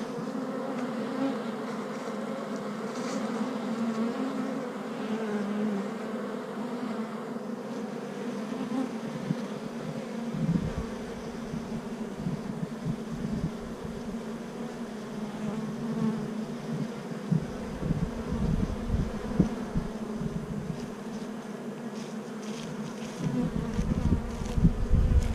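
Honey bees buzz steadily around a hive in a beekeeping setting, a dense continuous drone with individual bees flying close past, lasting throughout with no talk.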